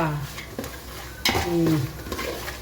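Chana dal, urad dal and peanuts frying in a pan, a low sizzle broken by scraping stirs and clinks of a spoon against the pan.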